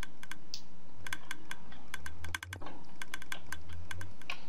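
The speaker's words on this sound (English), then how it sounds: "the clicking you hear in the background is a sign that the sorter is operating right now" Rapid clicking from a Minecraft item sorter at work, crisp repeated ticks in uneven bursts over a low background hum, with a brief dip near the middle.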